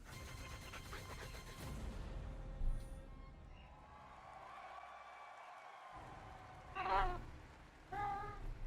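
A cat meows a few times amid loud crowd noise and an event soundtrack at a BlizzCon 2023 opening ceremony, with short harmonic cries standing out near the end.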